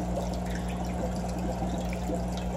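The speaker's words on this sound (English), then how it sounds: "the water gets pulled up the uplift tube and down into the compartment" Steady trickling and splashing of water running through a hang-on-back aquarium filter driven by a motor and impeller, a continuous close wash of flowing water with a low hum beneath it.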